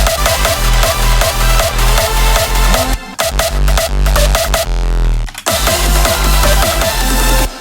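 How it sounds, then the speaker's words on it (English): A loud hard electronic dance drop pounds with a driving kick pattern, then a sweeping FX kick closes the section just before a brief gap and the beat returns. "you can hear that FX kick in the background, just always ending that part of the drop"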